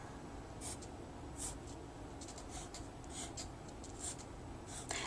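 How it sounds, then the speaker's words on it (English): A pencil scratches across paper in short, quick strokes and marks, close and fairly soft, while a steady low background hum runs underneath throughout. "I'm going to mark my positions in pencil"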